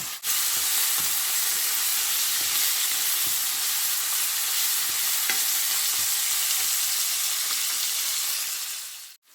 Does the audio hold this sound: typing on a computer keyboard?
no